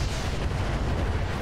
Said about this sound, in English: So many missiles hit our own guy, too.